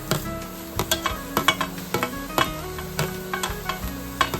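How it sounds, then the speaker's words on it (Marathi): Capsicum and green chillies frying in a pan for masala pav, a steady sizzle throughout with repeated clicks and scrapes of a spatula stirring at an uneven rhythm, close and fairly loud with no talk. "आणि ओली मिरची ही चांगली भाजून घ्यायची।"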